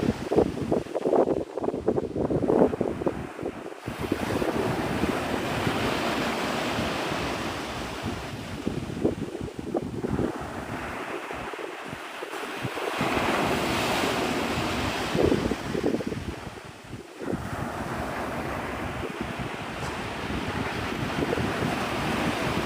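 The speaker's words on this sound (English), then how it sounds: "The wind is finally starting to pick up." Wind gusts across Navarre Beach, Florida at sunrise while ocean surf washes in steadily, a broad continuous rush with swelling and easing waves and buffeting wind noise on the microphone, no voices.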